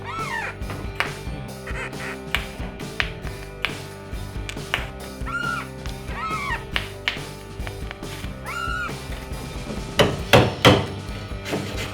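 A hammer repeatedly strikes the rusty metal bodywork of a 1950s DeSoto during repair, sharp taps at an irregular pace, some single and some in quick clusters, with louder heavier blows near the end.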